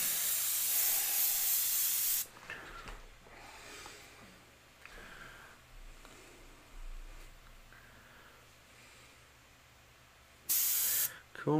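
Airbrush spraying paint for hibiscus flowers, a steady close hiss that runs for a couple of seconds, drops to faint quieter bursts, then returns briefly loud near the end.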